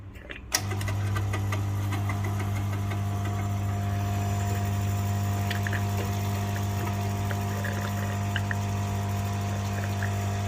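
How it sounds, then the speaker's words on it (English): A Lelit Mara X E61 heat-exchanger espresso machine runs its pump for manual pre-infusion: a steady loud vibratory hum starts abruptly after a click and continues evenly, with faint water trickling on top. "this is a manual pre-infusion. You can hear the sound."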